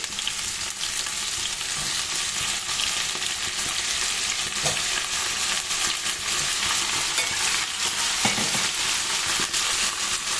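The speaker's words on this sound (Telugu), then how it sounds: "ఇప్పుడు దీంట్లో కట్ చేసి పెట్టుకున్న వంకాయ వేసేద్దాము" Cut brinjal pieces hit a pan of frying onions and are stirred. A steady, dense sizzle holds for about ten seconds, close and loud, with occasional scrapes of the spoon and no talking.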